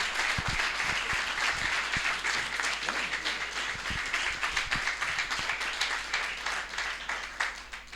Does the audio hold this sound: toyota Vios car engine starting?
no